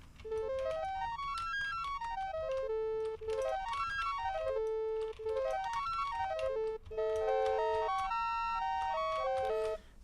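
A Vital software synthesizer tuned to 29edo plays clean, bright tones in repeating runs that climb and fall in stepwise arcs, with brief gaps between phrases and no voices.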